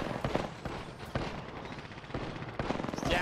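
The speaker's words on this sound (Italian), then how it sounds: "Stanno sparando a voi, io sparo." Gunfire from a firefight in the video game Apex Legends, with rapid automatic bursts and sharp shots rattling continuously at close range across the whole stretch, with no voices over it.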